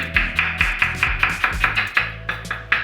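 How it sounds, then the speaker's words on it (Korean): Onion chopped with a knife on a cutting board, a run of about a dozen sharp, evenly paced knocks, close and clear, with no voices. "이렇게 부추도 썰어놓고, 양파"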